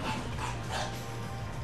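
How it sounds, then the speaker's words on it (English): Several pet dogs bark indoors, their sound faint and fairly steady across the short stretch, set against a continuous low background hum rather than standing out sharply. "I'm probably gonna cut my audio out here if my dogs keep barking"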